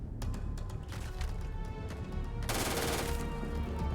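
Fully automatic gunfire rattles in the Starfield video game, a loud continuous burst that runs almost nonstop across the clip, growing denser and harsher in the last second and a half.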